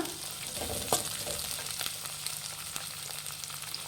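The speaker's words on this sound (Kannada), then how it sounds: "ಈರುಳ್ಳಿ ಹಾಕೊಂಡು ಸ್ವಲ್ಪ ಫ್ರೈ ಮಾಡ್ಕೊಳ್ಳೋಣ ಫ್ರೆಂಡ್ಸ್ ಸ್ವಲ್ಪ ಲೋ ಫ್ಲೇಮಲ್ಲಿ ಇಟ್ಕೊಳ್ಳೆ ಮಾಡ್ಕೊಳ್ಳಿ" Onion and capsicum fry steadily in a pan over low flame, a continuous close sizzle with occasional scrape of stirring, no talking.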